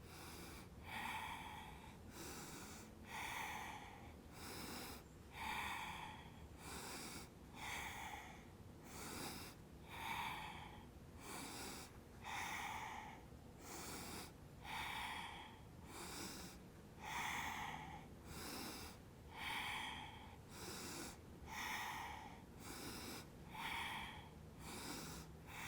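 Forceful, rhythmic Kundalini yoga breaths, sharp nasal exhales repeating steadily about once a second, close and clear for the whole stretch with no talking.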